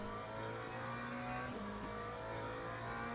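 Racing-game engine of a McLaren GT3 car on the Spa-Francorchamps circuit, a steady loud drone with overlapping engine harmonics that dip briefly as it brakes approaching La Source, with no speech.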